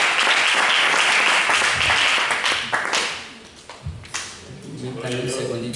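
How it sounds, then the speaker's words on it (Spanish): Church congregation applauding together, broad steady clapping that is loud and full at first, then thins and fades into scattered claps and murmuring voices. "Démosle ese aplauso al Señor."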